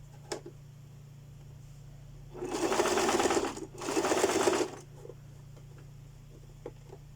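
A domestic sewing machine stitches a bra seam at one centimetre, two steady whirring runs of about a second each separated by a brief pause, close and fairly quiet over a low hum.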